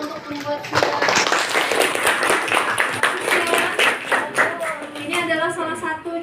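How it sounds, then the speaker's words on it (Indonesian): An audience applauds at a school film session in Indonesia, dense clapping of many hands lasting several seconds and tapering toward the end, with voices mixed in. "Boleh kita tepuk tangan dulu untuk membuat film."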